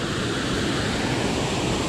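A waterfall at Cachoeira do Cantor in Apucarana, Paraná, roars as a steady, dense broadband rush of falling water, constant and fairly loud throughout with no voices.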